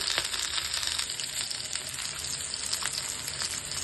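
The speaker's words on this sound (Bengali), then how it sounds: "ইলিশ ভাজা শুরু করে দিই" Steady crackling sizzle of hilsa fish frying in hot oil, close and continuous, with occasional sharper pops and no voices.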